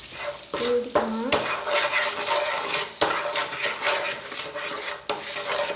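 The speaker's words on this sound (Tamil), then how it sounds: "பொடிக்குள்ள பச்சை மிளகாலாம் மாறுற வரைக்கும் லோ ஃப்ளேமில் வச்சு இந்த மாதிரி கிண்டி எடுத்துக்கோங்க." A spoon stirs green chilies in spice powder frying in a pan on low flame for gooseberry pickle. Steady sizzling runs throughout, with close scraping and clinking strokes, and it stays loud and continuous.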